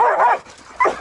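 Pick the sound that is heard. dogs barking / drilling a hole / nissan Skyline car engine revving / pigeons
dogs barking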